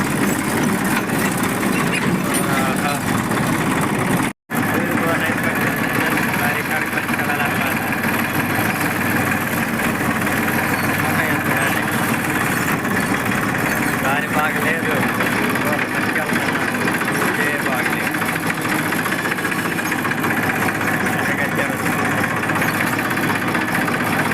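A tractor hauling a load of cotton bales in first gear along a rough, stony dirt track drones steadily and loudly throughout with a low, knocking engine rumble, and a voice speaks over it.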